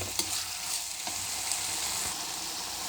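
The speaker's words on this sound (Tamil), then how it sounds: "இதை நல்லா கலக்கி விட்டுங்க" Dried fish thokku frying in a pan with turmeric and chili powder, a steady close sizzle broken by soft scraping stir strokes at irregular intervals.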